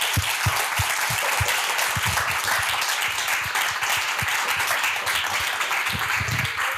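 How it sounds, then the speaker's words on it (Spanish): An audience at a literary talk with a writer gives steady, sustained applause, many hands clapping together at an even level throughout, with a few sharper individual claps standing out. "le damos un fuerte aplauso."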